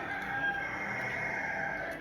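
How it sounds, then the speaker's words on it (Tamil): A chicken crows outdoors, a sustained, fairly faint call over steady background noise with no talk. "இல்லைன்னா வெளியே கோழி கத்துது."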